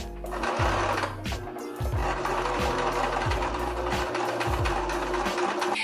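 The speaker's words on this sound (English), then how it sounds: "you're going to pin this down and then sew a straight line all across." A sewing machine runs a straight seam along a fabric tube for a bunny-ear scrunchie, a loud, close, steady motor whir with rapid needle clatter, slowing briefly near the start and the two-second mark before running on.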